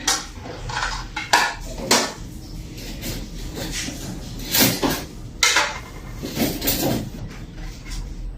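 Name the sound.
plates and dishes being handled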